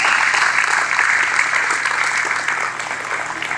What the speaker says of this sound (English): go ahead and applaud, that's great.